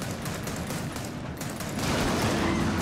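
Weapon fire in Gears of War 4, a dense, continuous rattle of loud automatic shooting that swells slightly toward the end.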